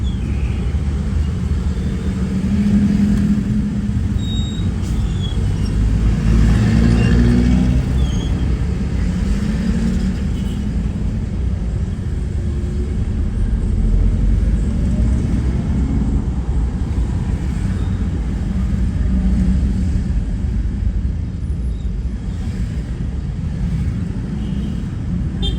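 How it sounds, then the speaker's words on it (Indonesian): Road traffic sits stalled in a jam at Limbung, between Takalar and Gowa, a continuous low rumble of engines with the hiss of passing vehicles, steady and fairly loud throughout. "Ini kita masih dalam macet di daerah Limbung."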